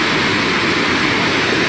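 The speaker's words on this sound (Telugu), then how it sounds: "అండ్ దాని కింద ఉన్న వాటర్ ఫాల్ ఇది." Steady, full roar of a waterfall at Plitvice Lakes in Croatia, heard close by as dense broadband rushing water with no break across the short stretch and no voices.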